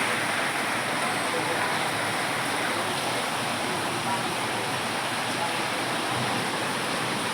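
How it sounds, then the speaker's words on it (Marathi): Rain falls steadily outdoors, a dense, even hiss of broadband noise that holds constant throughout with no distinct drops or breaks. "पाऊस पडतो"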